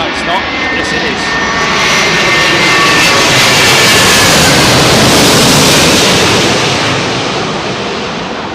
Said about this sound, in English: Sounds like a Dreamliner. It is a Dreamliner.